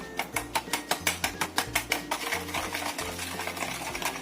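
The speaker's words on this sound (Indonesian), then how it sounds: "Kita aduk sampai rata" A spoon stirs sweet potato batter with sugar in a bowl, making rapid, rhythmic scraping strokes that start distinct and regular. The strokes then blur into a continuous softer churning, close and moderately quiet.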